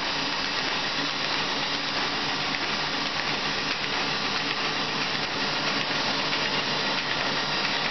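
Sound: Baum 2020 paper folder folding sheets into quarters

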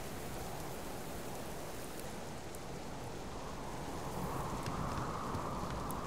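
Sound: rain and wind in Subsistence video game

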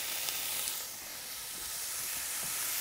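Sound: bacon sizzling in a Dutch oven over coals

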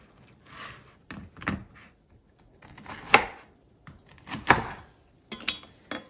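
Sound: knife cutting churro waffles into sections

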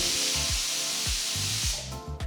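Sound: pressure cooker whistling while cooking dal

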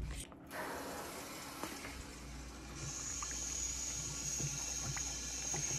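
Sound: water filling a pan from a valve

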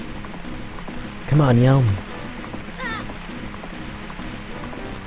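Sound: horse galloping in video game Majora's Mask

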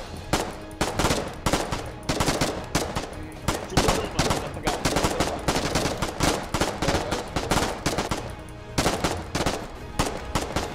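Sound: gunfire in the video game Foxhole

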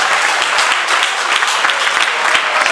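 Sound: audience applause for the sign holders

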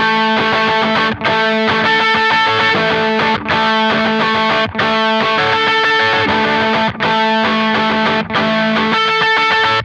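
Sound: guitar octave riff through MXR overdrive pedal

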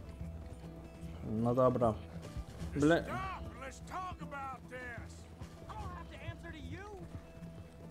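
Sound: horse galloping hooves in the video game Red Dead Redemption 2

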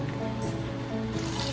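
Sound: rinsing mung beans and pouring off the water

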